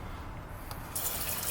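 Water runs steadily from the kitchen faucet of a custom camper van, a close, soft hiss and splash that brightens and grows a little louder partway through as the flow increases.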